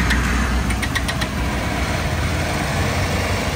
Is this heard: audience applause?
no